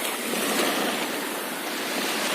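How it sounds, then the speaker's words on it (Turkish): Sea waves washing against the shore as grills are rinsed in salt water, a steady broadband rush of surf with light wind, continuous and fairly close with no voices. "Tabi dalga vuruyor getiriyor, vuruyor getiriyor."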